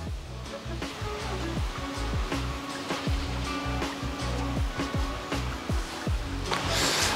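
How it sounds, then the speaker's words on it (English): A babbling brook on a riverside walk in Sheffield rushes and gurgles continuously, a steady close wash of water with scattered small splashes and no voices. "oh, it's a babbling brook"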